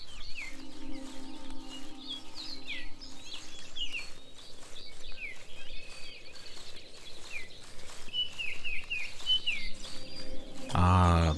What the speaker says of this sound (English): Beautiful bird song